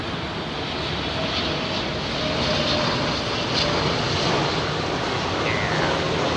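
A large airliner passes low overhead at Heathrow Airport, its engine roar swelling and holding as a broad, steady wash of noise, loud and alone.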